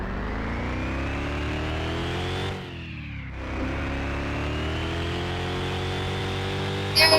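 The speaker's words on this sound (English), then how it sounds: "I just love that whine from the supercharger." Supercharged Ford F350 engine in a driving simulation game revs with a steady rising whine, dips briefly mid-rev, then climbs again to high RPM, loud and continuous with no talk.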